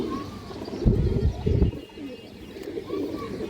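A pet pigeon with an old-blood bloodline coos in low, soft repeated phrases at close range, with a few bursts of louder cooing and faint background noise.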